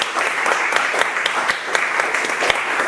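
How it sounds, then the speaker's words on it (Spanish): An audience at a short-story award ceremony applauds loudly and steadily, with dense, even clapping and a few sharper claps nearby. "Aplaudir"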